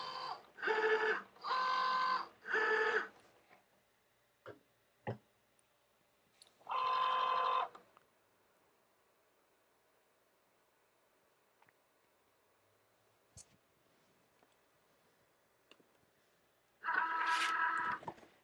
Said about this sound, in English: in terms of cutting ability of this machine, it's pretty good